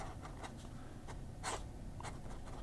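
A flexible fountain pen nib scratches across paper in a quick series of short, faint strokes, heard close and alone against a quiet background hiss.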